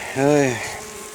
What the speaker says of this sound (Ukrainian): Повні вулики бджоли.